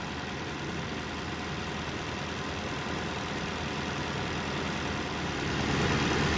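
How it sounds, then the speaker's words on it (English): A 2023–2025 Toyota Prius hybrid engine runs at idle after a coolant drain and refill, a steady, dense, even drone with no change in pitch, swelling slightly louder near the end. "it's been running for a few more minutes. There's no more air bubbles coming out, and it's idling"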